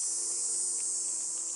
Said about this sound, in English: And the bees are working it.